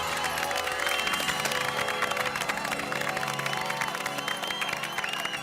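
An audience clapping at a Children's Day event: a dense, continuous burst of applause over a background of music, holding steady throughout.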